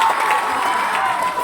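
A school Teacher's Day crowd cheers and applauds, a loud continuous wash of voices and clapping with no pauses over a short burst.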